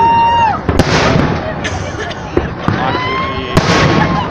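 Loud fireworks at a Voronezh city day celebration: several sharp bursts and bangs with whistling tails and crackle, while nearby people exclaim over them.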